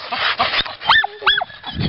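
Several dogs bark and yip close by in a short excited burst, sharp overlapping calls with rising whine-like tones, outdoors near a gate.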